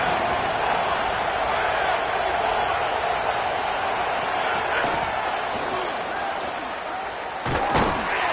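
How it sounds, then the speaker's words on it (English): Dense stadium crowd at a college football game against BYU, a loud continuous roar filling the whole stretch, with a couple of sharp thuds near the end. "This crowd ready to make its presence known."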